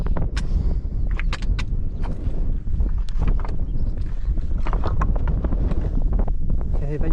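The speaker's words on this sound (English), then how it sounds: "The wind has picked up" Strong wind buffets the microphone at a hilltop solo wild camp, a continuous loud rumbling roar with gusting low-frequency noise and scattered sharp flaps and rustles from fabric throughout.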